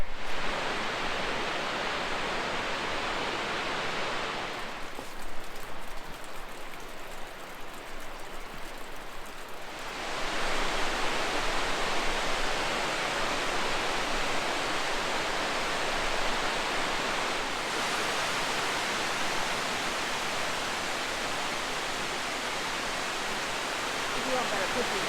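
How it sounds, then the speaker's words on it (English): A small waterfall on a short winter hike near campsites in South Cumberland State Park makes a steady broadband rush of falling water, continuous and fairly close, briefly dipping quieter midway before returning at full strength. "A little waterfall down here."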